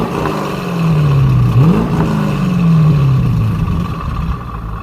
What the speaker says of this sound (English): Mostly wind noise and a lot of engine noise, but you don't really hear the exhaust all that much